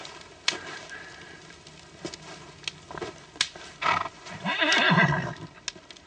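A horse whinnies loudly and close by, with a few sharp hoof knocks and snorts before the long neigh.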